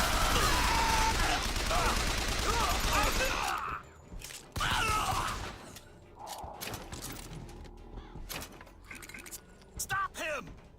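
Gunfire in Bioshock Infinite: a dense, loud burst of continuous shots for the first few seconds, then scattered bursts and impacts, with game voices shouting over the action.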